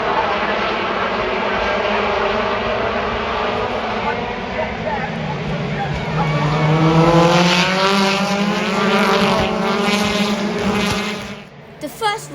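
British Touring Car race cars roaring past at Brands Hatch during a championship title-decider race, a loud continuous engine howl with rising and falling pitch as cars pass close by, fading near the end.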